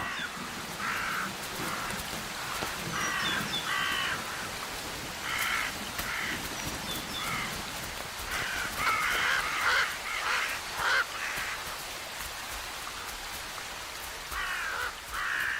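Crows or similar carrion birds mobbing a carcass in the Far North, with repeated harsh caws from several birds scattered through the scene over a soft, steady outdoor hiss.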